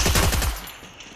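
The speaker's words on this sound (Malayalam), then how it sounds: "എവിടെ നിന്നോ ഒരു തന്നെ വെടിവെക്കുന്നുണ്ട്." In the video game Free Fire, a quick burst of rapid gunfire rattles out, then fades into a short echoing tail.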